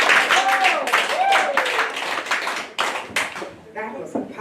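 A church congregation claps and applauds steadily for a gospel choir throughout while a voice talks loudly over the clapping.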